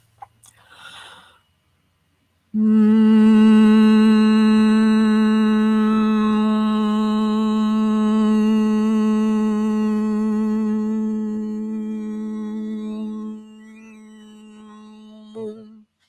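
A single closed-lip hum holds one steady pitch for about eleven seconds, loud and close. Shifting mouth shapes bring out overtones that whistle above the drone. The hum then drops in level and fades, and a brief breath follows.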